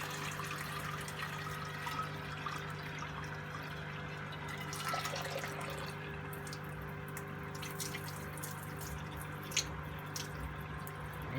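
Water in a washing machine bowl gently poured off, faint trickling and small drips over a steady low machine hum, with a few soft splashes near the end.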